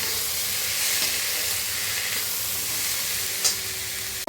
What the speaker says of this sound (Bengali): টমেটোটা আমি একটু ভাজা ভাজা করে নিয়েছি